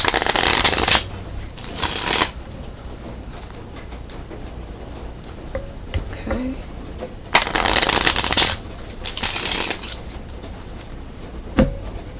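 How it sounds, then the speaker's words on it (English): Bursts of tarot cards being shuffled, riffling in two pairs of loud rustling runs with quiet pauses between, close up and with no talking. "Two more shuffles and I'll get right into your reading"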